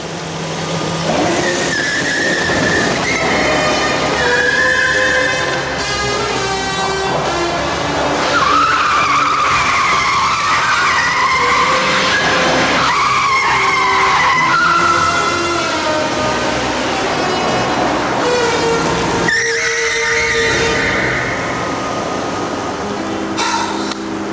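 A remote-controlled car skids and screeches in a dense, loud run of tyre squeals, motor whine and clattering mechanical noise lasting throughout, with no voices.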